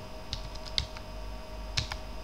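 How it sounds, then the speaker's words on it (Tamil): Typing on a computer keyboard while entering Tamil text, a few scattered clicks and keystrokes at close range over a steady low hum, with no voices. "ஈஸியாக டைப் பண்ணலாம்."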